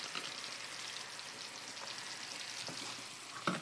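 Mushrooms fry in a pan for a sauce, giving a soft, steady sizzle with faint crackles and a small clink near the end.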